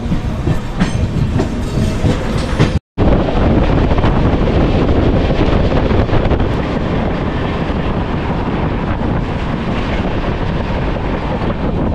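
Dhauli Express train running between Puri and Santragachi, heading out past Patia Junction: a loud, steady rumble of wheels on rails with wind buffeting, broken by a brief total dropout before the continuous roar resumes.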